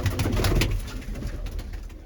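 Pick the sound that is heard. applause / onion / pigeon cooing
pigeon cooing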